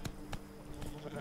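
A sheep bleats in The Witcher 3: Blood and Wine, a couple of short faint bleats amid quiet game ambience.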